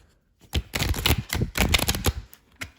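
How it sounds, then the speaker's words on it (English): A deck of large cards is shuffled once, a quick run of dense, crisp riffling clicks in two bursts, close and fairly loud, with no talking. "Let's do one good shuffle here because I haven't used these in a while."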